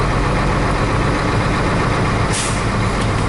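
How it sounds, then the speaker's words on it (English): A truck engine idles steadily while the throttle is held up to build air brake pressure, a loud continuous low rumble with an air-system hiss rising briefly near the end. "I'm going to go ahead and use the accelerator, never exceeding 1100 RPMs, and build up to full capacity"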